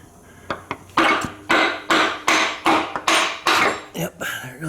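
Hammer striking to knock a CV axle bearing out of a 2000 Toyota Sienna, about ten sharp, heavy metallic blows in a steady rhythm, close and loud with brief ringing after each hit.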